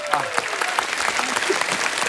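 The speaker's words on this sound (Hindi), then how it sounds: "गजराज राव जी के लिए जोरदार तालियां हो जाए।" Studio audience applause on a Hindi comedy talk show, a steady dense wash of clapping with some voices and cheers mixed in, loud and continuous throughout.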